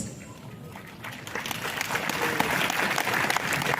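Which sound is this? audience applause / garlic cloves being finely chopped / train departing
audience applause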